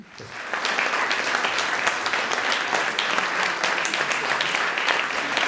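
A theater audience at the Adelie Award ceremony in Dresden applauds steadily, a dense, even wash of clapping that swells in within the first half second and holds at full strength throughout.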